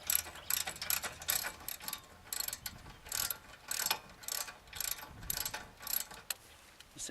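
A ratchet wrench loosens a bolt during car repair. About a dozen rapid clicking bursts come in a steady back-and-forth rhythm, close and fairly quiet, with no talking.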